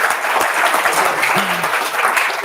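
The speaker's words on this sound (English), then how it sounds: "Give him a big clap." A room full of people at a JavaScript tech conference claps steadily and loudly, welcoming the next presenter, with a faint voice briefly heard beneath the sustained applause.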